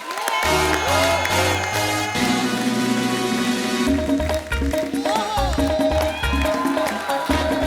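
Studio audience applause with some cheering welcomes a film director onto the stage of a Hindi comedy talk show, a dense continuous roar of clapping with music playing underneath throughout.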